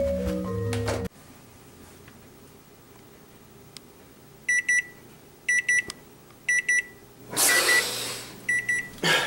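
Oven timer alarm sounding while a pizza bakes: four short bursts of rapid high beeping, fairly loud and alone, after a quiet stretch, with a broadband rush of noise near the end.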